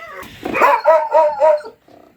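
A hunting Laika dog gives a series of about four yelping, high-pitched barks close by, then a faint whine trails off.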